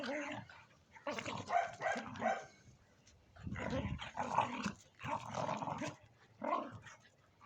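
Dogs bark and yip in bursts of several sharp barks, fairly close, with short pauses between volleys and some growly tones.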